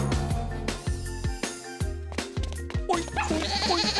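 Goats bleating in Sardinia, with repeated short wavering cries over a pulsing musical backing, fairly close and clear, ending in a rising, tonal call.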